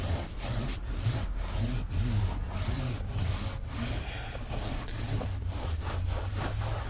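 Cloth rubbing over the leather seats of a W140 Mercedes S500, a close, steady back-and-forth scrubbing swish in regular strokes, accompanied by a low hum underneath and no talking.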